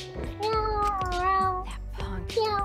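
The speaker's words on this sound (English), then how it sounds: "Shuichi's been overtaken by cats." Several cats meow in overlapping, drawn-out cries over background game music in Danganronpa V3, loud and close.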